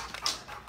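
A dog gives a brief, soft whimper with breathy panting, heard close and quiet over a short moment with no talk.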